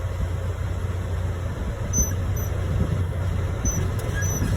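A truck engine in low gear strains steadily against the engaged parking brake as the clutch is slowly let out, a continuous low rumble with a slight rise in vibration partway through, close and alone.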